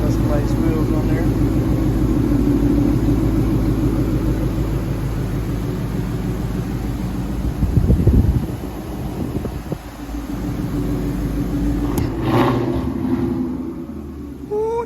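A Ford Mustang S550 engine idles with a loud, steady low rumble that runs the whole time, with a brief surge near the middle. Voices talk over it.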